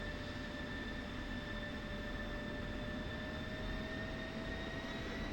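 A jet aircraft taxis over to parking, producing a steady, loud engine roar with a sustained high whine and unchanging broadband rumble throughout, with no talking.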